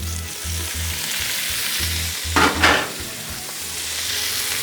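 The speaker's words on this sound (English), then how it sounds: "Man, I love that sizzle." Thin-sliced steak sizzles in oil on a Blackstone griddle, a steady close frying hiss with low thumps of handling, and a brief louder burst of spatter midway as the meat is moved.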